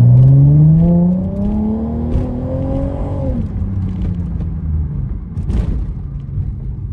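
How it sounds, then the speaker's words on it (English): A 2005 Ford Mustang with an aftermarket exhaust drives along, its engine note rising as it accelerates, then settling into a steady, loud, rumbling drone heard up close without talk. "This car also has an exhaust on it, if you guys can hear it."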